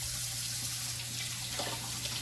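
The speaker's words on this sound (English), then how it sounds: "And I turn on my water as hot as I can make it." Hot tap water runs steadily into a quart-size measuring bowl in a kitchen, a continuous close hiss and splash with no voices.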